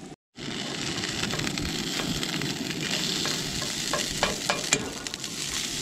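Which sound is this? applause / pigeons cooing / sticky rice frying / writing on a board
sticky rice frying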